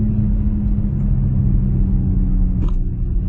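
A Porsche Macan Turbo V6 engine rumbles steadily at idle, deep and loud, with a brief click near the end.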